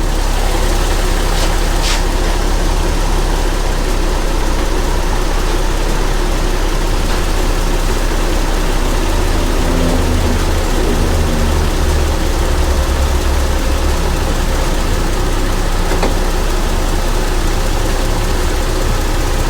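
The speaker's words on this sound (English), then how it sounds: "Verify that the clutch engaged. Compressor's turning." A Toyota Soarer engine idles with its air-conditioning compressor clutch engaged, producing a loud, steady, continuous low hum that runs unbroken and close throughout, with no talking.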